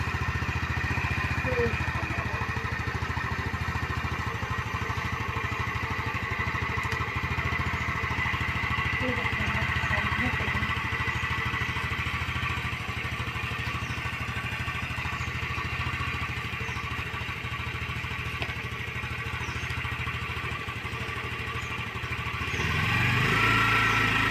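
A motorbike engine runs steadily at idle throughout, a constant close mechanical drone with some clatter, while people talk over it.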